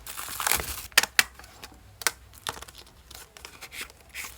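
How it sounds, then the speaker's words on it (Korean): Plastic-wrapped K-pop album packages being torn open at close range, with a series of sharp ripping and crinkling bursts separated by short pauses. "이렇게 세 개 뜯어볼게요"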